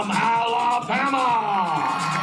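Crowd at a Babe Ruth All Stars baseball opening ceremony cheers and whoops for an 8-year-old team, a steady roar of voices and high shouts with an announcer speaking over it.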